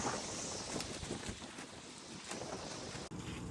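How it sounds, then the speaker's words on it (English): Strong Arizona wind gusting through a greenhouse farm roars as a dense, continuous rush and buffets the microphone heavily, loud and unbroken, with no voices. "If I ever mention Arizona wind, this is what I mean."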